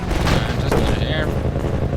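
Gunfire in the shooter game Minerva: Metastasis, a dense barrage of booming shots and blasts filling the scene, loud and continuous with a voice partly audible over it.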